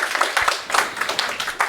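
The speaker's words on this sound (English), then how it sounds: "Big round of applause." Brief, sparse clapping from a conference audience, with individual claps audible in an uneven rhythm, moderately close and lasting under two seconds.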